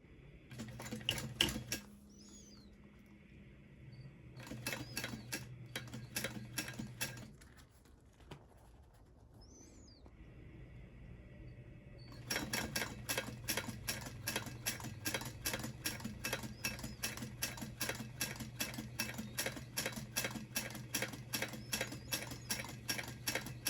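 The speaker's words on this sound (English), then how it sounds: "let's go ahead and top stitch" A sewing machine top stitches fabric for an iPad sleeve, with rapid rhythmic needle clatter in two long runs broken by a quieter pause, close and steady with no talking.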